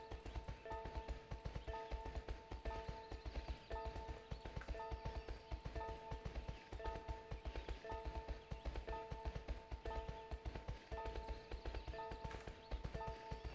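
Horse hooves clip-clop in the My Horse & Me 2 video game, a quiet, steady rhythmic trot of evenly spaced hoofbeats that continues unbroken throughout, with faint tonal game music beneath and no talking.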